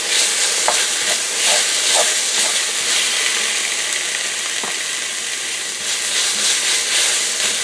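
Tomato paste sizzles in a cast iron pot for a Cajun shrimp stew, a continuous bright hiss of frying with faint scraping and a few light clicks of the spoon, no talk.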